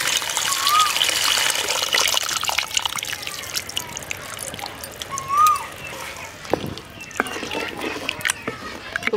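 Strained tamarind water poured into a simmering garlic and curry-leaf kuzhambu in a village kitchen, a steady liquid trickle and splash running close by under a speaking voice.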